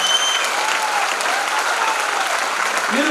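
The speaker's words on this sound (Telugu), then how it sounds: "కవిత మేడం గారికి, అలాగే వాళ్ళ హస్బెండ్ మూర్తి సార్కి ఒకసారి గట్టిగా క్లాప్కోండి" An audience at a women's empowerment program event claps loudly and steadily, a dense continuous wash of applause close by, with faint voices mixed in underneath.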